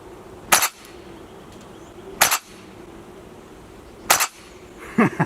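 An airsoft gun with a rotating bolt fires three sharp, spaced shots about two seconds apart, each a crisp snapping crack over a quiet background, with a faint metallic clink after the last.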